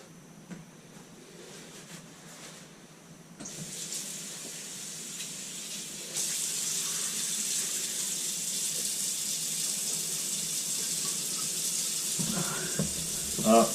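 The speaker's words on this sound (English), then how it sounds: "The ball cock's leaking." Water leaks through a toilet ball cock, a steady hiss that grows louder partway through and then runs as a continuous rushing flow.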